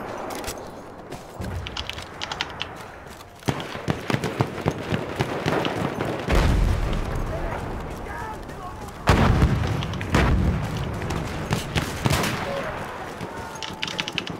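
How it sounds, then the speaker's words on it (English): Battlefield 1 combat on a dense battlefield, with continuous gunfire and a heavy boom partway through that fits a grenade blast, loud and close under intermittent shouted voices. "Grenade out! Look lively!"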